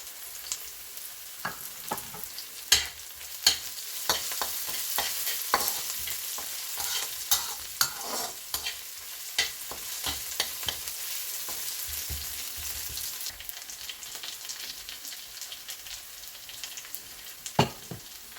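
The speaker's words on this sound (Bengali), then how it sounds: "আমার ভাজা হয়ে গেছে পেঁয়াজ রসুনটা" Onion and four or five chopped garlic cloves fry in hot oil with a dense, loud, close sizzle, and repeated scraping clicks of stirring run throughout.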